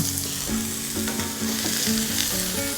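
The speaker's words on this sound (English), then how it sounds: "while this onion is cooking and beginning to brown" Onion fries in a thin film of oil in a pan over medium-low heat, giving a steady, close sizzle with a few scraping stirs and a faint tonal hum underneath.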